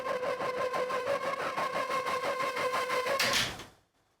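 A layered Serum VST synth patch for a dark pop-metal track pulses in fast, even rhythmic chops with bright harmonics, rises into a noisy burst near the end and then fades out quickly.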